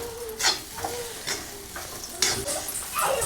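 Sabudana frying in a pan is stirred in quick, repeated scraping strokes over a crackling sizzle, close and fairly loud, with no talk.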